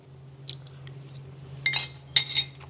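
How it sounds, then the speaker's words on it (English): A few crisp crunching bites into a crispy-yet-gooey muscovado chocolate chunk cookie, served with buttermilk ice cream; quiet crunches arrive as separate bursts, then a close double crunch, with no talking. "So let's take a bite."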